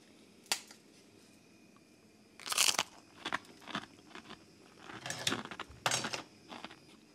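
Crunchy buckwheat crackers from a Russian military ration being bitten and chewed up close, with a few sharp, loud crunches spaced apart among softer chewing sounds and no talking.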